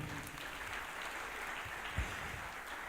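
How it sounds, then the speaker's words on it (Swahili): A crowd claps warmly for a group of women who have just sung at a church gathering, a sustained, even patter of many hands. "tupigie hawa mama wetu makofi mazuri"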